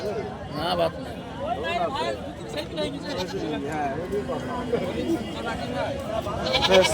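Several goats bleat repeatedly amid a busy market crowd, their wavering cries rising over steady chatter and talking nearby.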